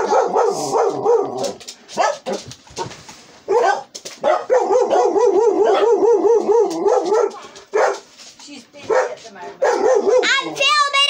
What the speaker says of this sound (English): Don't mind, it's just my dogs.